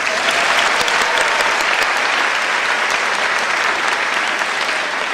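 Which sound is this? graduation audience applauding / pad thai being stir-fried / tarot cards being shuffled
graduation audience applauding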